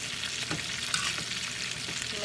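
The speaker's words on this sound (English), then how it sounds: "you're just going to mix it around until it's evenly coated, and keep it on the heat" Homemade chicken nuggets are stirred through spicy sriracha sauce in a pan over heat, a close sizzling hiss broken by scraping, clattering stirring strokes, with no talking.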